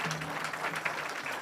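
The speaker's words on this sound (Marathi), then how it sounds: "वाजवू ना टाळ्या." Audience at a village kirtan festival claps steadily in a broad, continuous wash of applause, moderately loud and sustained throughout, with no talk over it.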